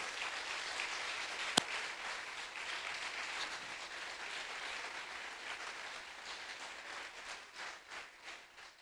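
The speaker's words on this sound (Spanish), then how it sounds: "Si vas a aplaudir, aplaude." Sustained applause from a church congregation, a dense wash of clapping that holds steady and slowly thins toward the end, with one sharp click early on.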